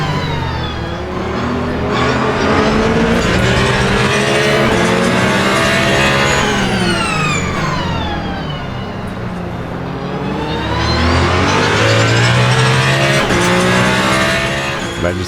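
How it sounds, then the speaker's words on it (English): Hypercars race in the video game Le Mans Ultimate, their loud engines sweeping up and down in pitch as they accelerate and shift, a continuous close roar with no talk over it. "I just cannot shake these hypercars."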